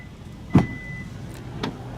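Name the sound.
car smart trunk alert chime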